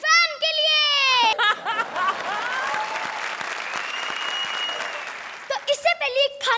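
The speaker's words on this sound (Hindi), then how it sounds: "तो जोरदार तालियां हो जाए सलमान खान के फैन के लिए।" A studio audience at a comedy show breaks into strong applause, a dense, sustained burst of clapping that swells and then fades, with voices speaking just before and right after it.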